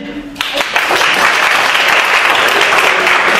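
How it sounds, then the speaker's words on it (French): A burst of audience applause swells in after a brief moment, then holds as loud, dense clapping from a crowd at a talk. "j'aimerais que vous fassiez un tonnerre d'applaudissements à Julie."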